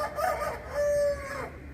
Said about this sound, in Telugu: వైజాగ్లో కూడా కోడి కూతతో లేవచ్చు అన్నమాట అండి